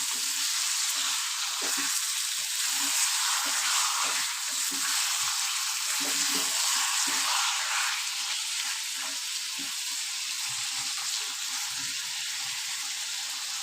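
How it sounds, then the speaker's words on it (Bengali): Mutton sizzles and fries steadily in a pan with spices, with scattered scraping and stirring sounds over the continuous hiss, close and moderately loud. "মাটনটা মশলার সাথে ভালো মতো কষিয়ে নিতে হবে।"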